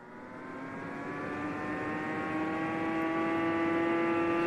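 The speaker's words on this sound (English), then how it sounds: "that main supercharger sound" A simulated supercharger whine from a turbine engine sound simulation rises steadily in pitch and volume, a smooth continuous tone with layered harmonics and no talking.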